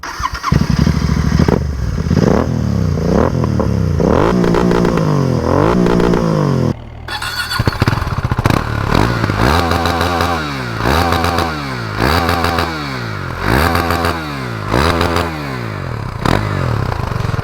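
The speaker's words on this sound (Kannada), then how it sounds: "ಗೈಸ್ ನಿಮಗೆ ಎಕ್ಸಾಸ್ಟ್ ನೋಟ್ ಒಂದು ತೋರಿಸ್ಬಿಡ್ತೀನಿ ಬರ್ರಿ" Close, loud exhaust note of a motorcycle, either a KTM Duke 390 or a GT 650, revved over and over. The engine rises and falls in repeated sweeps, with one sharp cut in the middle, and nobody talks over it.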